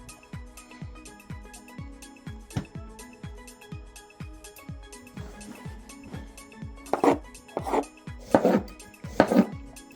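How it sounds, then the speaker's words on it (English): A knife slices fruit for a party platter on a cutting board, a steady run of crisp, evenly spaced chops close by, with a few louder, heavier strikes toward the end. "Cut it in half. Scoop out the seeds, slice, 1/4 inch thick, nice even slices."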